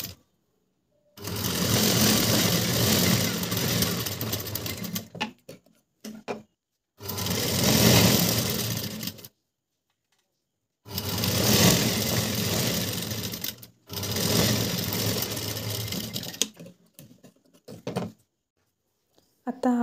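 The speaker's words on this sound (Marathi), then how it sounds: "आता आपण जी शिलाई मारली ती बरोबर मध्यभागी येईल असं घेऊन इथे आपल्याला शिलाई मारायची" A sewing machine stitches blouse fabric cut from a saree piece in four long, steady, close-up runs of whirring mechanical hum, separated by short pauses with faint handling noises.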